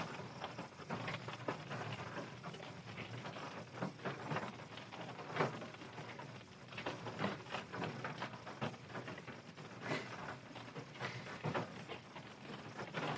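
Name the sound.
rain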